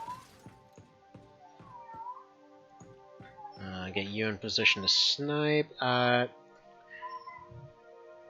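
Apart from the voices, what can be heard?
loud robotic cat meowing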